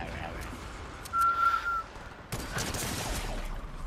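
Gunfire in the video game Reload: a whistling tone rises briefly, then sharp, loud reports break out, followed by sustained rattling fire under background noise, with players talking.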